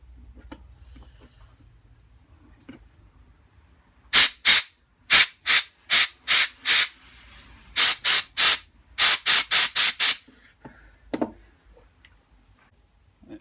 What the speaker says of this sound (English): going to clean this out, I'm just going to use an airline